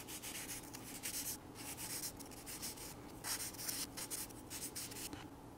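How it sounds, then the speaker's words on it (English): A model rocket fin from a Galactic Manufacturing SK369 FAI airframe kit is sanded by hand with 400 grit sandpaper, giving faint, rhythmic back-and-forth rubbing strokes up close. "Okay, they've each been sanded to the 240 grit paper. Now we'll go to the 400 grit paper."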